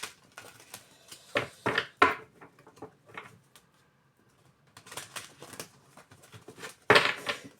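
Oracle cards being shuffled by hand between draws, giving several bursts of soft papery riffling and tapping that come and go with quiet gaps, close and moderately loud.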